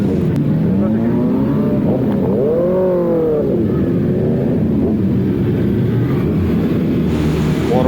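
Sports and naked motorcycles at a BMW Motorrad event rev nearby, the engine pitch rising and falling in several sweeping surges, with the tone continuous and fairly loud.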